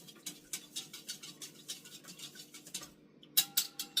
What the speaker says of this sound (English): I'm just going to just whisk the 2 together to combine them